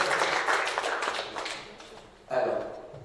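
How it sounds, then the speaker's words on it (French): Audience applause at an award ceremony, a burst of clapping that fades, then a second swell of claps near the end, moderately distant in a hall. "Bravo, on peut applaudir"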